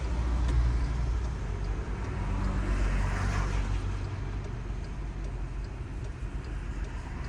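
A car driving during a driving lesson, a low steady engine hum and road rumble heard from inside the cabin, fairly quiet, with no talk in this stretch.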